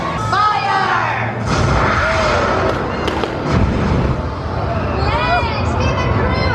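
Cannon blast from a pirate show at Legoland Windsor, a loud bang amid cheering, shouting crowd and talk over outdoor ambience.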